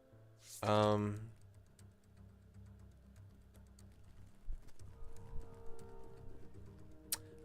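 Typing on a computer keyboard during play of the game WILL: A Wonderful World, heard as faint, irregular key clicks under a brief burst of voice early on, with a sharper click near the end.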